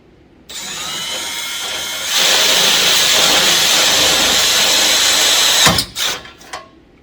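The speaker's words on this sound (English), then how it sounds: "let's go ahead and start to drill" A power drill whirs steadily for about five seconds while drilling near a car's tow hook mount, rising to a louder, higher-pitched grind partway through, then stops with a few short clatters.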